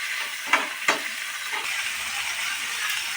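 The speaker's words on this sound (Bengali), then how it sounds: "এবার দেখো টমেটোগুলো একটু গলে গলে গেছে পেঁয়াজগুলো একটু ভালো মতনই কষানো হয়ে গেছে" Onions and tomatoes sautéing in a pan for breakfast, giving a steady close sizzle with a couple of sharp stirring scrapes near the start.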